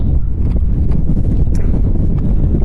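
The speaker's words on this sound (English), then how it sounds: "Oh, it sure is windy up here." Strong wind on an Idaho mountain top buffets the microphone with loud, constant low rumbling and gusts throughout, with no speech.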